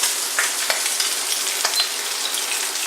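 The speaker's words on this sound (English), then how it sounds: "I use Jowls. I have them here frying already a little bit." Pork jowls frying in a pan, a steady close sizzle with small crackles and pops running throughout, no voices.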